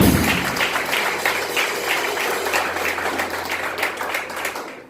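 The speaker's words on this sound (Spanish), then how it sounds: "yo le brindaría un fuerte aplauso al Señor" A church congregation claps in praise, dense sustained applause filling the room steadily for about five seconds before tapering slightly at the end.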